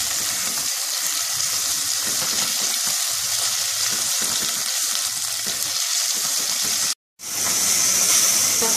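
Tomatoes and green chilies sizzle steadily in a pan while being stirred for an egg curry, a continuous close frying hiss with soft scraping, briefly cut to silence near the end before resuming.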